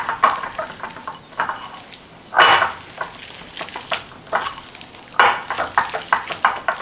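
Deviled egg filling being stirred in a bowl, irregular scraping and clinking strokes of a utensil in bursts, with louder mixing passes separated by quieter moments.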